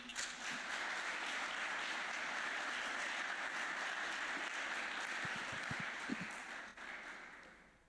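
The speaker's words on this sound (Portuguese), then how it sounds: "Você pode aplaudir Jesus nessa noite?" A church congregation applauds and cheers during an evening service, a steady broad wash of clapping that holds at full strength for about seven seconds before starting to fade near the end.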